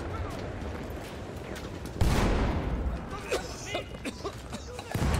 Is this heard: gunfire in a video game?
yes